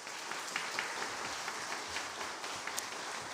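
Steady, dense applause from a church congregation during a Sunday Easter service, many hands clapping together without pause, filling the room at a moderate level.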